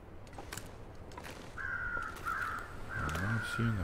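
Several crows caw in The Long Dark's snowy outdoors, a few distinct harsh calls arriving in quick pairs near the end, over a low wind bed with a voice speaking lightly.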